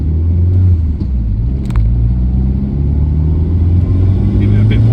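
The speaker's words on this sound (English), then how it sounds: "Give it a bit more of a wheeze there, and you may have heard the dump valve doing what it's supposed to do." A 1989 Toyota Celica GT-Four ST185, an early example, with its engine rumbling steadily and rising slightly under throttle, with a brief faint hiss that could be the turbo dump valve, close and continuous throughout.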